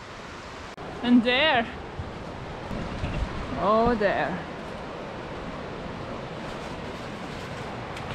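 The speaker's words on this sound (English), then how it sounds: "Look at this river. So huge, lots of water." A huge river in karst country rushes in a steady broad roar, heard from nearby under a couple of short spoken exclamations.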